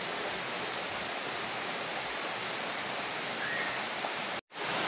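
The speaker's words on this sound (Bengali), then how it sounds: "বৃষ্টির আওয়াজ হইতেছে, শব্দ।" Heavy rain pours steadily outdoors near trees in a rural yard, a dense, even hiss that stays loud and close throughout, broken by one brief dropout near the end.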